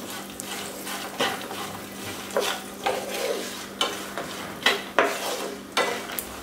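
Kerala aval chivda snack mixture is stirred in a pan, giving irregular rustling scrapes and clinks in bursts over a low sizzling background; no voices.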